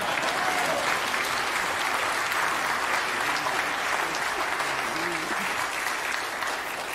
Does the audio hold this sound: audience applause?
yes